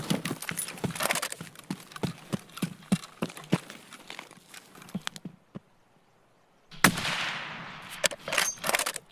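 Escape from Tarkov gunfire: a run of sharp, evenly spaced reports rings out, then a short quiet gap, then a loud dense burst of shots close by, with no talking.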